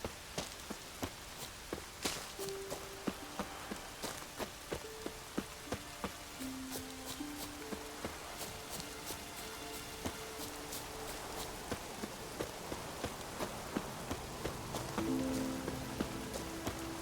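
Rain patters steadily in The Witcher 3, a soft, constant hiss broken by regular crunchy footsteps and faint musical tones, fairly quiet overall.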